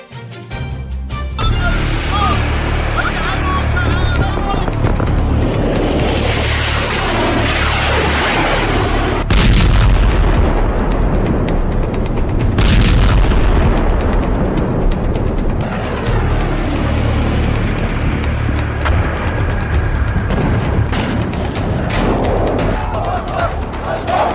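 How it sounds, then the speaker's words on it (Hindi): An oil tanker explosion: a long, loud roaring blast with rumbling booms and crackling bursts, sustained and heavy throughout, with a couple of sharp peaks. "तेल टैंकर में धमाका, हूथी का खूनी हमला।"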